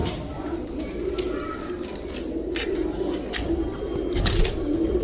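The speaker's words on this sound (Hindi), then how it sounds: "सारे इलाहाबादी कबूतर हैं भैया" A lot of ten young Allahabadi pigeons coo softly and continuously at close range, low rolling calls layered over a steady background hum.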